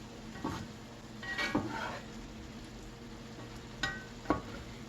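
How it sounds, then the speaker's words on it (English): Seasoned food stirred in a frying pan, a few soft scraping and clinking strokes of a utensil against the pan over a faint steady sizzle. "Give it all a good stir."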